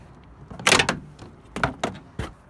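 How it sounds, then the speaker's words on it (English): A car's door card trim panel is lifted and pulled free from the door frame, giving a few sharp plastic clunks and knocks, with one loud cluster early and several shorter thuds later, close up and without talk. "you can now lift the door card up"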